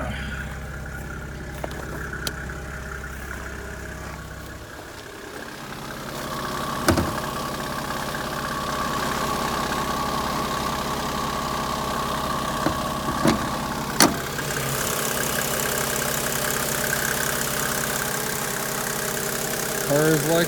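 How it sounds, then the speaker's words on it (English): A Mercedes-Benz car engine idles steadily and smoothly throughout, a continuous low hum with a few brief clicks and knocks on top and no talking. "The engine runs amazing"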